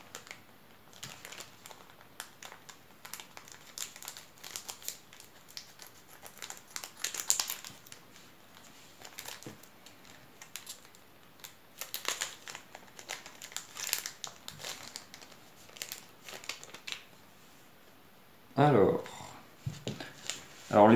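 Pokemon Action Flipz packs being cut open with small scissors and unwrapped, giving soft, intermittent crinkling and rustling of foil wrappers, with a louder burst of crumpling near the end.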